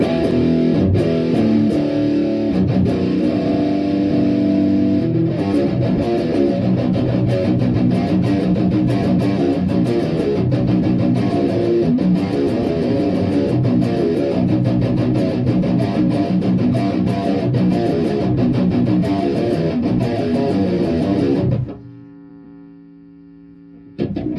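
An electric guitar plays through a Magic Unicorn amp at different gain settings, giving a thick, distorted, sustained tone for about twenty seconds before cutting off to a faint hum.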